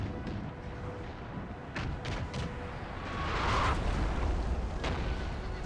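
Cannon artillery fires in a video game battle of the Prussian-Dutch War of 1864, with dull booms and rumbling over a dense, noisy battlefield din that swells midway and holds steady.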